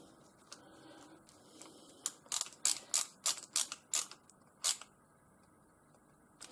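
Screws being tightened on an electrical plug during a two-prong to three-prong conversion, heard as a quick run of about eight crisp ratcheting clicks in close succession, up close, followed by a quieter pause.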